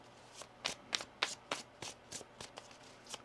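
Tarot cards being shuffled by hand in a quick run of crisp riffling bursts, close and fairly quiet, with no talking.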